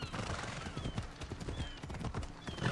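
A horse galloping in the video game Assassin's Creed Odyssey, with rhythmic clip-clop hoofbeats running throughout under game sound and a voice.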